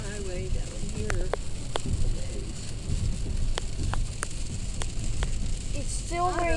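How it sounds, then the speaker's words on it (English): Rain falls during a drive on a highway near Cranberry and New Castle, Pennsylvania, in a severe thunderstorm, a steady rumbling wash with scattered sharp ticks of drops, and a brief voice near the end. "It's still raining."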